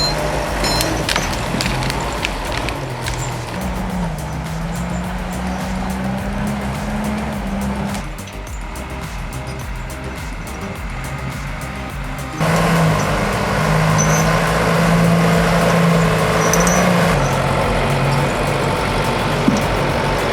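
A Valmet logging machine grinding through obstacles in wet forest terrain, its heavy diesel engine roaring steadily and loudly throughout, rising and falling in pitch as it labours, with a louder surge in the latter half.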